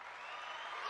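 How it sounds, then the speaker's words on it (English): Audience applause for an interview guest at the close of an episode, a brief, steady burst of clapping at moderate level with no speech over it. "Can we get one more clap for Georges Jeanty?"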